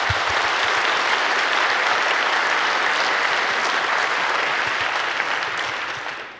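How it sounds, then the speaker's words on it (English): Sustained applause from a large audience at a Chaos Communication Congress talk welcoming two speakers from Reporters Without Borders, dense and steady throughout before tapering slightly at the end. "Please give them a warm round of applause."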